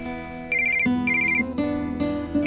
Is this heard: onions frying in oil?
no